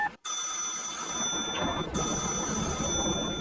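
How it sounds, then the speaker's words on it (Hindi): A telephone rings with a steady, continuous electronic tone, loud and close, after a brief silent gap at the start. "आपका फोन बज रहा है।"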